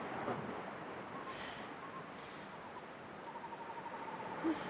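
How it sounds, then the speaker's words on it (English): Soft, continuous water waves wash in a video game, faint and distant under a steady windy hiss with a few brief swells. "that water is sounding more like Desolation Point or something"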